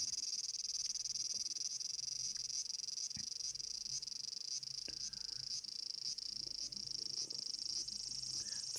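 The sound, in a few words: cicadas buzzing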